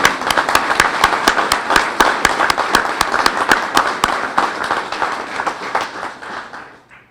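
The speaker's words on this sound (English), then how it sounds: "One more round of applause" A crowd at a police promotions ceremony applauds, with sharp, dense clapping that is loud at first and then gradually fades out over several seconds.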